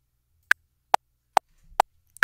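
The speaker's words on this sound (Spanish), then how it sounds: "Este es el metrónomo." A metronome set to 140 ticks five times in an even, quick pulse, each click sharp and clear over a quiet room, with a faint soft rustle between beats.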